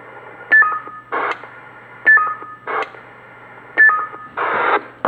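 Roger bleep tones from a Stabo XM4006E CB radio, repeated three times in a steady pattern: each a short rising electronic beep followed by a burst of static-like noise, loud and close.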